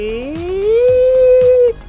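A person's voice imitates the engine of an electric rallycross car, a single rising whine that sweeps upward and holds a steady pitch before cutting off, close and loud, with faint background knocks underneath.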